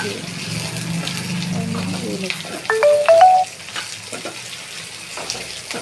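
Onion, garlic, pepper, fennel and ginger fry in oil with a steady sizzle, and a few brief clinks and scrapes from stirring interrupt it partway through.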